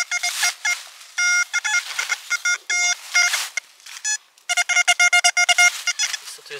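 A metal detector sweeps a beach and gives a rapid series of high electronic beeps, some short and choppy and some held longer, loud and close, with a few brief pauses between bursts.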